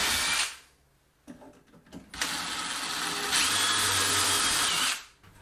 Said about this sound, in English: So I pre-drilled my holes